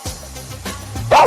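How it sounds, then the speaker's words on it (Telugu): A dog gives a short bark and yelp in a domestic setting, close and loud, one sharp burst after a brief lower growl-like sound. "ఏ బూమర్, ఎందుకలా అరుస్తావు?"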